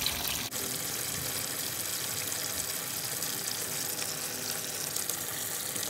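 Water rushing steadily out of a household water filter during backwash, a dense, continuous broadband gush with no pauses, loud and close.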